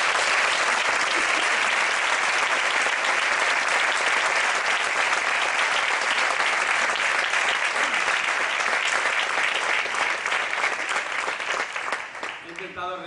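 Sustained ovation from a large gala audience honoring bullfighter Francisco Rivera Ordóñez, dense and loud clapping filling the hall for over ten seconds before tapering at the end.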